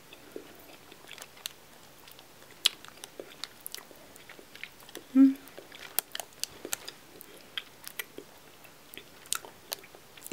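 Swedish Fish gummy candy is chewed close to the microphone, giving soft, sticky mouth clicks and wet chewing sounds at a quiet level with scattered small smacks.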